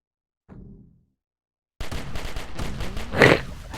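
Gunfire in the video game Cally's Caves 3: a short low thump, a silent gap, then a dense, rapid stream of loud synthetic shots with a sharper burst near the end.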